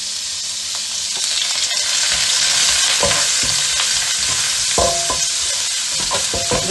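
Ginger, garlic and curry leaves fry loudly in a pan for a squid roast, a dense hiss of hot oil close by, with repeated scrapes and knocks of a spoon stirring through it.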